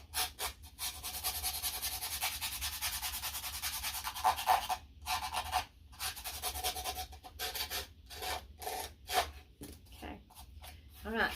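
A small hand file rasps across a little wooden plank being shaped for a 1/12 scale dollhouse bed, in quick close back-and-forth strokes with short pauses between bursts.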